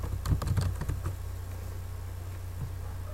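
Quick bursts of typing on a computer keyboard as a grizzly bear search is entered, a cluster of close, crisp keystrokes in the first second, then quiet room hum with one faint tap later.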